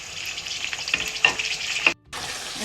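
Garlic, ginger and spring onion sizzle steadily in a pan of light golden onions, with faint stirring scrapes and a brief dropout near the end, with no talking.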